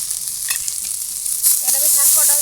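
Lentil dumplings (bori) drop into a pan of frying crabs, with a loud steady sizzle that swells midway, plus a few utensil knocks and a brief faint voice.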